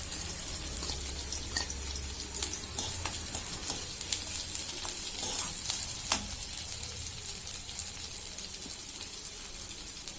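Garlic sizzles and crackles in hot oil in a pan while cooking cabbage manchurian, with steady close frying and occasional stirring scrapes throughout, no voices.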